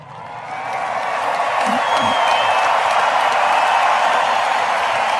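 A large stadium crowd cheers and applauds for broadcaster Vin Scully, a steady, loud roar of voices and clapping that swells in the first second and holds throughout.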